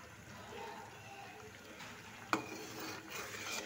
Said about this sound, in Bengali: এবার এটাকে ভালো করে নেড়ে চেড়ে রান্না করে নেব